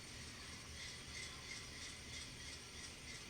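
A ScaleTrains Conrail SD40-2 model locomotive goes through its startup sequence, giving off a steady, even mechanical whir and ratcheting rumble with no talk.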